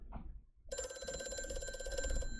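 A telephone rings steadily and loudly in Amnesia: A Machine for Pigs, a continuous electric bell tone that starts abruptly after a brief faint sound and carries on to the end.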